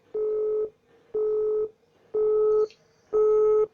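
Four evenly spaced telephone dialing tones, each about half a second long with short gaps between them, sound clearly and alone, with no talking.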